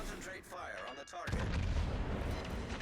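A warship's rear gun fires in a naval combat game, a deep, rumbling boom that swells and rolls on after some game effects, with a voice speaking over it.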